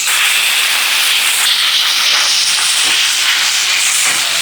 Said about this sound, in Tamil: சிக்கன் அங்கே ரோஸ்ட் ஆகிட்டு இருக்கு